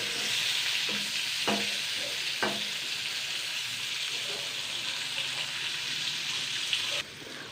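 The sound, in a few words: eggplant frying in oil with sugar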